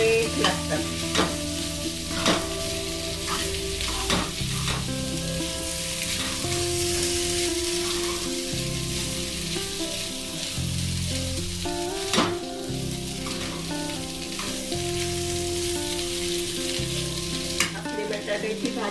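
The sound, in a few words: stirring potato bhaji frying in a pan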